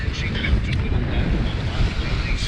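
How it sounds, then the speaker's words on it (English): Wind buffets a microphone aboard the sailboat Tally Ho under sail after a tack, in about 10 to 11 knots of true wind from the east-northeast, a steady, loud rushing roar with low gusty rumble. "10 to 11 knots true wind it looks like, so not that bad."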